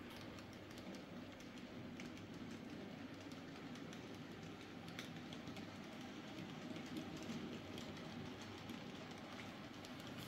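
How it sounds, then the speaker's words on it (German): A TT scale Effiliner model train runs past on a layout, a faint, steady rolling hum with light clicking of wheels over track, continuous and fairly distant. "lassen den Effiliner noch an uns vorbeifahren"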